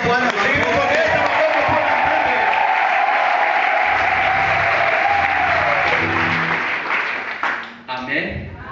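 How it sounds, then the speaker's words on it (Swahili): Church congregation clapping in worship, loud sustained applause with cheers and whoops rising over a held musical tone, then fading into scattered claps and voices at the end. "Eti tunaweza mpigia Bwana makofi."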